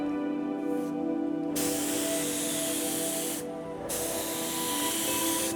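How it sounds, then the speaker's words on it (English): Spray painting the edges of a wooden drawer: steady hissing bursts from a spray gun over a constant background hum, stopping briefly twice before resuming, close and fairly loud, with no speech. "Turn it so the bottom's facing you, and we'll spray all the edges first."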